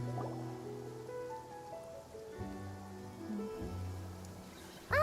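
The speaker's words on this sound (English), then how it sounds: "it's a little rainy" Steady rain falling in the game Genshin Impact, a continuous soft hiss under game music with sustained tones, ending in a sudden louder chime-like burst.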